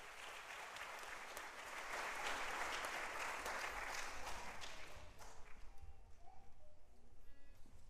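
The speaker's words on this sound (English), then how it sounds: "Give these guys a round of applause." Dense audience applause at a school spring program fills the space, swelling and then thinning into scattered claps toward the end, heard from a distance.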